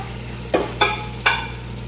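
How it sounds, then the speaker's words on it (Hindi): Taro root (arbi) frying in a pan for an arvi gosht curry, with a steady background sizzle and three sharp scraping stirs of a spoon against the pan, close and alone. "हमारी अरबी भी भुन चुकी है।"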